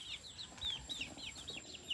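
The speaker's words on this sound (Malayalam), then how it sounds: "വലിയ കോഴികളായി." Farm-raised chickens, including roosters, make faint, evenly spaced high chirping calls, about eight in a row, over quiet room background.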